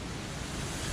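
Light rain and gusting wind outdoors during Hurricane Milton, heard as a steady, even broadband hiss that continues without a break and has no voices over it.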